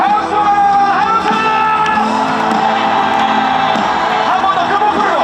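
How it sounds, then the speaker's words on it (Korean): Concert audience at a Daegu K-trot festival cheering and whooping loudly, a dense, sustained roar of many voices with music underneath, filling the whole stretch. "다같이 우리 모두 박수와 함성!"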